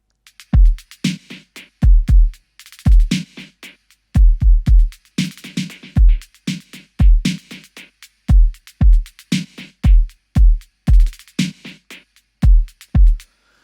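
A drum kit built from non-instrument samples in an Ableton drum rack plays a steady looping groove of punchy, deep kicks and crisp snare- and hat-like hits, loud and up close with no talking.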